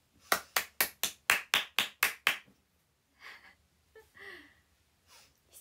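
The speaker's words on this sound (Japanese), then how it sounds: "なんか癖のある拍手の仕方を今" A quick run of about nine crisp, close hand claps in a tight rhythm, followed by quiet breathy sounds and a short vocal noise after the clapping stops.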